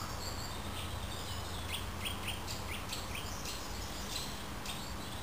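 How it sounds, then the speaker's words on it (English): Small birds, including a wren, chirp and trill outdoors in the countryside, with quick high calls repeating through steady broadband background noise, moderately distant and fairly faint. "As you can hear, the birds chirping in the background."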